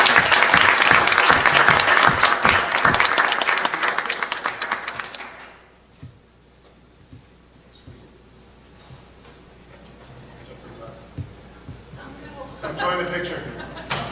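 Audience applause at a school board of education meeting, loud dense clapping for several seconds that dies away, followed by quiet room noise and faint talk.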